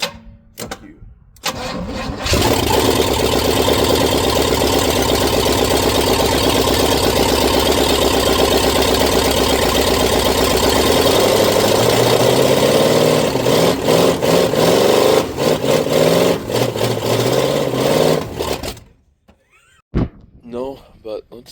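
A 1968 Buick Wildcat V8 cranks and catches after 44 years of sitting, then runs loud and rough for about sixteen seconds, its revs rising and settling before it cuts out abruptly, with a few short voices around it.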